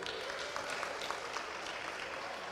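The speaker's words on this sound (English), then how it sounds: "by a round of applause, who here is from the greater Manchester area?" A live audience at a Manchester taping of a wrestling podcast applauds in a steady, even wash of many hands, held at a fairly soft, distant level throughout.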